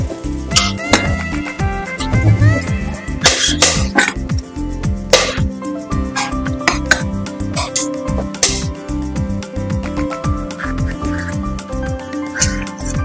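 Chicken pieces go into a pot of hot butter with bay leaves and whole garam masala and are stirred. The sound is a busy run of clinks, knocks and wet clattering from the pot and spoon, with faint voices underneath.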